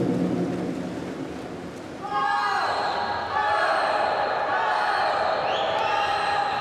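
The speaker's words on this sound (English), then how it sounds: "the crowd willing her on" Swimming gallery at a Durban Grand Prix finals cheering a leading swimmer on, a low crowd murmur that swells suddenly into loud, sustained cheering and whooping with high shouts layered on top.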